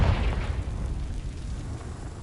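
Confringo fire spell in Hogwarts Legacy detonating as a deep, heavy boom that rolls on as a sustained low rumble, loud and close with no talking.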